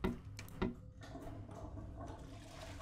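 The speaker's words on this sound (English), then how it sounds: "Flush." Toilet flush in the horror video game Fears To Fathom: Carson House, a short gurgling rush of water with an opening splash, then steady draining swirl, fairly quiet and alone.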